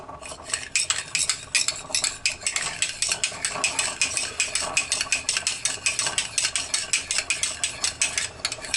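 A utensil stirs a hot mixture into eggs in a bowl, tempering them for Southern banana pudding. It makes a steady, rapid run of rhythmic scraping clicks, close and alone.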